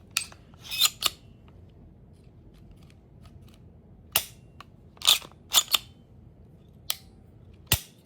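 Trigger of a PSA Sabre rifle with a polymer magwell being dry-fired, about eight sharp close metallic clicks spaced irregularly over quiet background.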